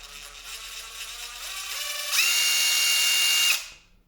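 A Stanley Fatmax V20 cordless drill with a variable speed trigger whirs up gradually, jumps to a loud high-pitched whine at full speed, then spins down to silence, close by with no talking.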